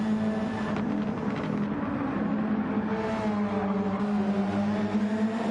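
Super Formula race cars fight for position at Autopolis in Gran Turismo 7, their engines a steady, loud, high-pitched drone with slight pitch shifts as one car draws alongside another.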